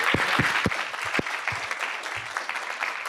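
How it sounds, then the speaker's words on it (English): Audience applause at an AI panel discussion: a burst of clapping with a few sharp, close claps up front, settling into a steady, moderately loud patter. "Let's give our panelists another round of applause"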